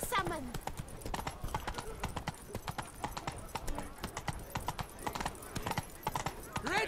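Roach, the horse in The Witcher 3: Blood and Wine, gallops with a steady stream of close, rhythmic hoof clip-clops, a brief whinny mixed in, while game voices talk over the hoofbeats.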